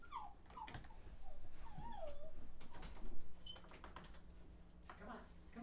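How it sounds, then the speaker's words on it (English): An agitated dog whimpers and yips in rising, wavering whines, close by and repeated over several seconds, with scattered clicks and thumps around it. "This dog's going insane."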